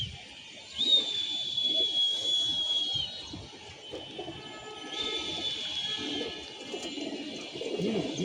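Pigeons kept in a loft on a rainy day, cooing softly and repeatedly against a steady background hiss, with a faint whistling tone above and no talk.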